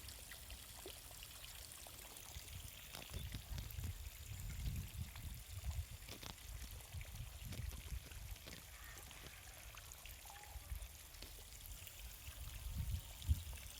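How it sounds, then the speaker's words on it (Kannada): Faint, steady rush of water spraying and trickling from an irrigation pipe over leafy greens in a field, a soft continuous splashing with occasional drips, heard from a little distance. "ನೋಡಿ ಎಷ್ಟು ಚೆನ್ನಾಗಿ ಬರ್ತಾಯಿದೆ ನೀರು"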